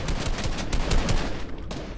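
Rapid automatic gunfire in the Fortnite video game, a loud, dense rattle of shots packed closely together that continues without pause and thins out slightly toward the end.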